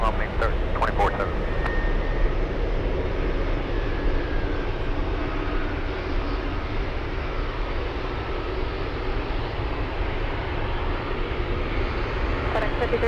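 An MD-11 jet taking off at Anchorage airport, a steady broad engine roar held at a distance throughout, with a few sharp clicks near the start.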